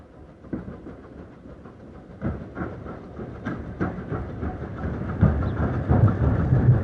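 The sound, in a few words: BR Standard 4MT steam locomotive 76017 on Mid-Hants Railway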